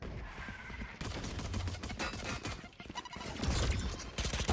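Dense rapid gunfire in a Valorant match, rattling bursts of shots packed closely together, loud and continuous throughout with no clear speech.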